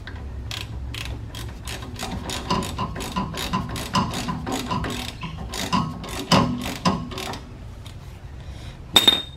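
A hand ratchet driving an 18 mm socket tightens a sway bar end link on a Ford F-150, giving a steady run of sharp, close clicking strokes with brief pauses and a final metallic clink.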